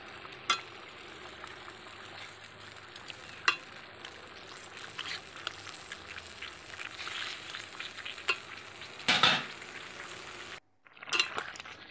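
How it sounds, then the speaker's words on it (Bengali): A thin curry of ridge gourd and koi fish bubbles in a pan, a soft, steady simmering hiss with small pops and an occasional louder clatter, close and continuous, broken by a brief dropout near the end, with no talking. "বেশ ঝোলটা ফুটতে শুরু করেছে।"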